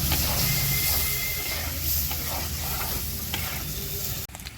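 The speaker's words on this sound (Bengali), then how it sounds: "এই মশলাটা তুলে এই একই কড়াইতে এখন আমি ডিমগুলোকে ভেজে নেব" Eggs fry in the same wok that just held spices, giving a steady, loud sizzle with occasional stirring scrapes throughout, no voices.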